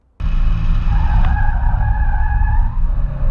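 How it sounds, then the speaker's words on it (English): A 2018 Kia Stinger is driven hard, its tires squealing loudly and continuously in a sustained skid over a close engine roar, starting abruptly and holding for a few seconds before easing off. "I have the privilege of driving this, the 2018 Kia Stinger"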